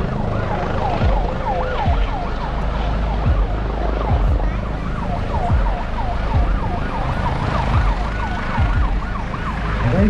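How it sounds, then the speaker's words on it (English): A helicopter at an airshow sounds its siren: a loud, continuous wailing tone that rises and falls over the throb of rotors and engine noise throughout. "You hear the siren on that helicopter"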